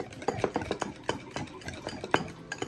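Aioli of minced garlic, olive oil, Japanese mayo and salt stirred in a bowl, close and rhythmic, with repeated scraping strokes and soft clicks of the utensil against the side.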